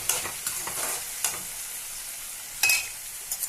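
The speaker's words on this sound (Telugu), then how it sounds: "కొంచెం వేగాక ఉల్లిపాయలు కొంచెం మగ్గాక టమాటాలు వేస్తున్నాను." Onions and tomatoes frying in oil in a pan, giving a soft continuous sizzle broken by several quick spatula stirs and scrapes, one louder clatter near the end; no one speaks.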